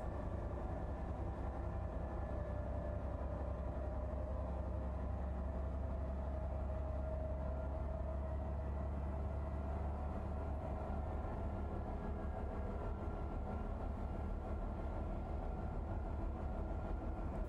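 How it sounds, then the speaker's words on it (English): A locomotive in the Train Life railway simulator video game rumbles with a deep, continuous engine drone and rolling rail noise, steady and unbroken throughout. "look, that's a cute little loco"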